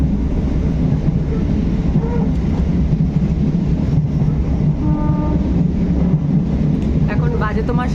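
A near-empty Ranaghat local passenger train running out of Gede in the evening: a steady, loud rumble of wheels and carriage noise continues throughout, with faint clatter and a brief tonal squeal near the end.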